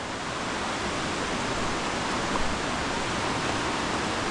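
The Šujica river pours into a sinkhole in a dark canyon near Tomislavgrad, a loud, steady broadband rush of water with no voices.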